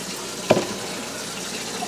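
Tap water runs steadily into a cooking pot being filled to boil eggs, a soft continuous hiss with one brief splash near the start, and no one speaking.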